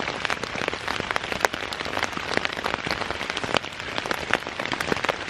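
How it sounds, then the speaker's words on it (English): Steady rain drums on a tent through a November overnight hike, a dense continuous patter with sharper individual drops popping out close by, heard alone with no voices. "I'll just sit here and listen to the rain some more"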